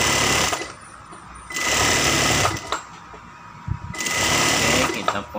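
Sewing machine stitching the inner side seam of elastic-waist trousers: loud, close mechanical whirring in three runs of about one to one and a half seconds, separated by short pauses with handling clicks and a person talking.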